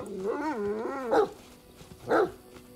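A dog in the fantasy role-playing game Pathfinder: Kingmaker lets out a whining, pitch-bending vocalization followed by two short, sharp barks, close and clear with no talk.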